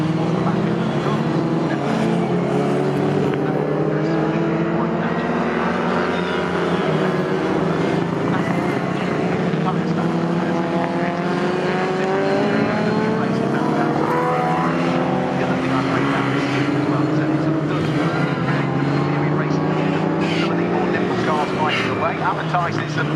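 Classic cars race at Snetterton circuit in a CSCC Classic K Series event, engines droning and rising in pitch as they pass. The engine noise is loud and continuous, with commentary running over it the whole time.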